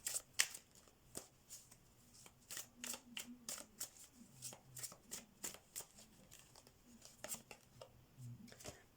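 A deck of tarot cards is shuffled by hand close up in quick, soft riffling bursts that repeat in an uneven rhythm, with quiet pauses between them.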